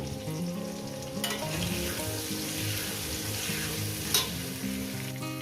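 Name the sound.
frying fish head with turmeric in a pan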